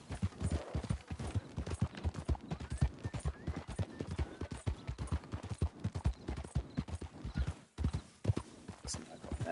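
Horse hooves clip-clopping in a video game, a brisk continuous rhythm of close hoofbeats on hard ground with a brief pause near the end, a voice talking over it.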